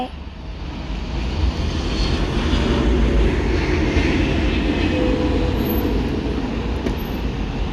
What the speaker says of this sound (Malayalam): ഇവിടെ ഭയങ്കര ഫ്ലൈറ്റ് പോക്കാണ്. എയർപോർട്ടിൻ്റെ അടുത്താണിത്.